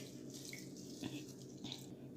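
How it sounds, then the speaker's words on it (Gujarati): Mixed lentils for dal fry being washed by hand in a bowl of water: faint sloshing and swishing with a couple of soft splashes, close and quiet, no talking. "આપણે પાણી એડ કરી દઈશું અને સરસ મસળી એને પહેલાં ધોઈ લઈશું"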